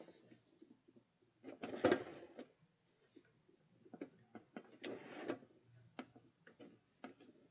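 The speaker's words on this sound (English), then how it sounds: "Make sure that my drawers can open, and they can." Plastic craft-room drawers on a stackable bin unit slide open and shut in a few quick, close scraping and clacking bursts, separated by quiet handling taps at low volume.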